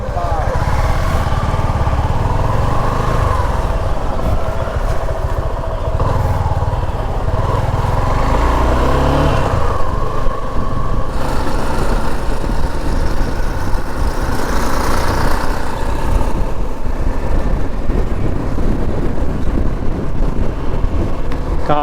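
A Suzuki V-Strom SX 250 single-cylinder motorcycle accelerating on the road, its engine droning continuously under heavy wind rush, with pitch rising and dropping through gear changes across the ride.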